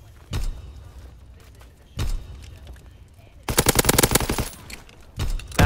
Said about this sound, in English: I just shot Smutty out of the air after I made him sit down